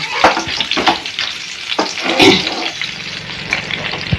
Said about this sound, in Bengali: আস্তে আস্তে করে ভাজা হচ্ছে হালকা করে করে এরকম আস্তে আস্তে নাড়িয়ে নাড়িয়ে সব আমি ভাজা করে নেব